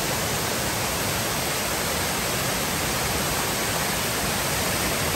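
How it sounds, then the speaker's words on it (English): Steady, dense rush of a waterfall at Soco Falls in the Great Smoky Mountains, a broad hiss of falling water close by and continuous for the whole stretch, with no voices over it. "So you can see the mist coming off the waterfalls."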